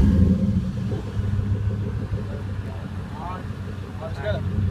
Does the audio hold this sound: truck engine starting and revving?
yes